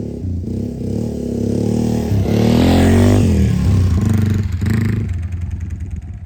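A Yamaha TW200 motorcycle rides a snowy forest road, engine droning and rising as it accelerates, with rattling clatter from rocks, close and loud without talk.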